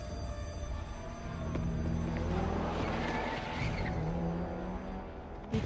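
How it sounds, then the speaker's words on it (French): A video game car chase in 007 First Light, with an engine roaring steadily and tires skidding and squealing through busy, layered game audio and music, fairly loud throughout. "Toujours une course-poursuite en voiture."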